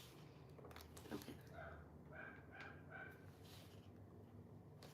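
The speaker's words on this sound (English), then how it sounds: "I have no idea what my dog's barking at." A dog barks indoors, a few faint, short, distant-sounding barks in quick succession over a quiet room background.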